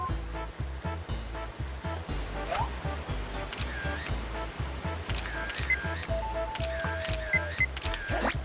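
Rushing waterfall ambience from the Pokémon Snap video game plays as a steady roar beneath a rhythmic, repeating game music beat and occasional electronic tones.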